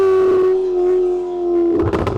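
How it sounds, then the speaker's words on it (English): A Lamborghini engine with a flat-plane crank pulls in second gear, a steady droning tone that dips and then breaks into rough crackling near the end, loud and close with no talk. "Yes, that is indeed a flat, plain crank back there"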